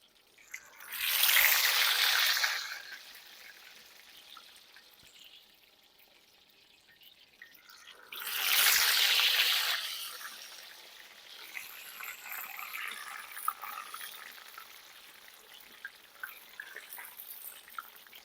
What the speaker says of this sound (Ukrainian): Смажемо.